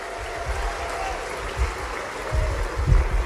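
Scattered applause from a political rally crowd, a steady wash of clapping with low rumbles and swelling bursts near the end, moderately loud with faint voices mixed in.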